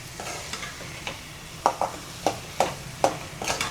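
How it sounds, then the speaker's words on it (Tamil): Moong dal frying in ghee is stirred in a pan, with a steady background sizzle and a run of rhythmic scraping strokes, close and clear, with no talk. "நல்லா நெய்யிலே வதங்கட்டுங்க"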